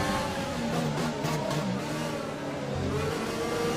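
Race car engines from the F1 2020 video game drone and rev steadily throughout, a dense buzzing roar with shifting pitch as cars jostle and overtake at close range.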